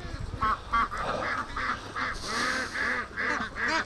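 A flock of free-range ducks and geese at a swamp pond keeps up a steady stream of overlapping quacks and honks at feed time, close and moderately loud, in a rhythmic, busy chorus.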